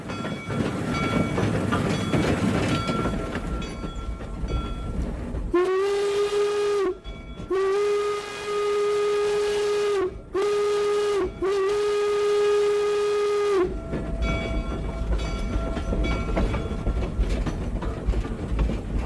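A steam locomotive at Golden Spike National Historical Park in northern Utah sounds a loud, close steam whistle in several long blasts with short breaks, over the rolling clatter and rumble of the train.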